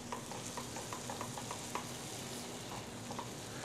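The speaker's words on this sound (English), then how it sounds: "And you, once again, keep stirring." Risotto rice being stirred in a pan, with a steady sizzle and a rhythmic run of soft scrapes and taps from the spoon, close up and without speech.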